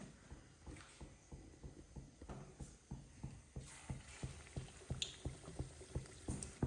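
Batter-dipped green chillies for bajji going into hot oil, giving a quiet, steady bubbling with a quick run of soft popping crackles throughout, no talking.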